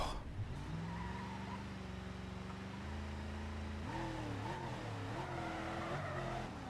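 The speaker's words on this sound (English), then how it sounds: "Blasting the nitrous every so often." Boost thrusters fire on a car in the Rocket League Sideswipe video game, a sustained loud engine whine with shifting pitch and tire squeals over a steady hum, all continuous for several seconds.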